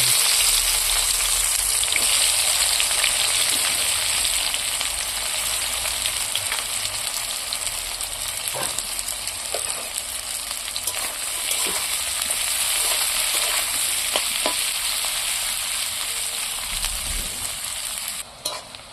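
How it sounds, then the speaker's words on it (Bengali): Onions sizzle steadily in hot oil for a long stretch, broken by occasional clicks and scrapes as they are stirred. "সেই তেলের উপরই পেঁয়াজগুলো তুলে দিচ্ছি"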